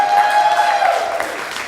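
An audience applauds a former student who is now a professional comedian, brief clapping under a steady sustained tone that fades out toward the end.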